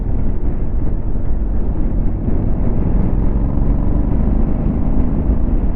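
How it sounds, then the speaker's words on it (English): A 2022 Honda CRF1100L Africa Twin DCT on its stock exhaust, a loud, continuous low rumble close by with no talking. "the sound of this exhaust, and this is stock exhaust"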